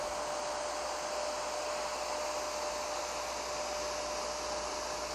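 A hair dryer blows hot air steadily during a blow-dry styling of hair, a loud continuous whooshing hiss with a constant motor whine and no break throughout.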